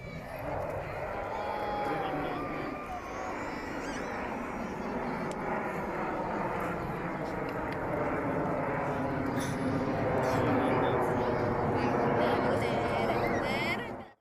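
Several aircraft fly overhead together in formation at the Abu Dhabi air show, a broad steady roar filling the air beneath a crowd and a person talking throughout.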